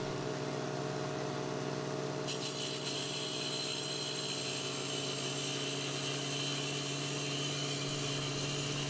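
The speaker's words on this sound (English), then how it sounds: "The worker cuts the dummy joints with a saw blade" A concrete saw cutting dummy joints into concrete pavement gives a continuous engine drone with a steady, grinding cut, its tone brightening slightly partway through and never pausing, close and loud with no voices.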